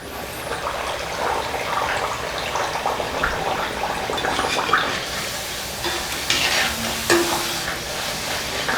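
Dough frying in hot oil over a medium flame, a steady dense sizzle running throughout with brief brighter bubbling bursts, close and fairly loud, no talking.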